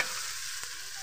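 Tomatoes frying in a pan as they are stirred, giving a brief, steady hiss of sizzling at moderate loudness.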